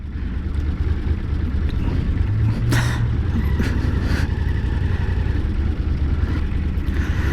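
Steady low rumble of a motorcycle idling and creeping in stuck traffic on flat roads, with nearby vehicle engines blending into a continuous drone and brief higher whines rising and fading.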